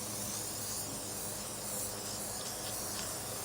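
A spray can gives one steady, continuous hiss, close and alone, while pictures for a museum train exhibit are mounted.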